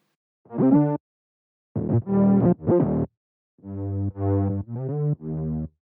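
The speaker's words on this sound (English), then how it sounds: "the other high bass layer is made in Diva and sounds like this." A bright, rich synth bass made in the Diva synthesizer plays a few short phrases in a higher register, notes gliding and stepping between pitches, with pauses between phrases.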